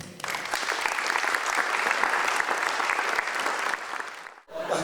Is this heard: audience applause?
yes